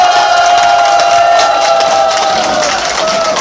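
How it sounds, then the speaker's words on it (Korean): A crowd at a Liberty Unification Party political rally in Seoul claps and cheers loudly and continuously, a dense roar of applause mixed with shouting voices and a steady tonal hum running through it. "다시 한번 박수로 여러분 힘차게 응원해 주시기 바랍니다"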